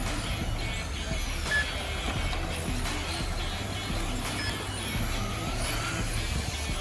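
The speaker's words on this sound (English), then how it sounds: "people are out here viciously driving and practicing because the track now has some juice traction on it" Cars lap a race track during practice at an open event, making a steady, moderately distant engine drone with passing whines layered over a constant rumble.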